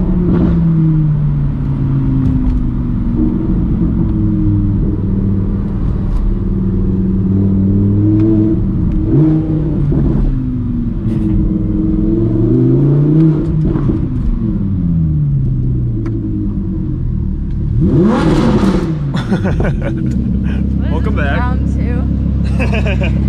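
Engine of a modified Audi R8 sports car rumbles and revs, rising and falling in pitch over a steady loud drone, with talk over it and a brief rush of noise near the end.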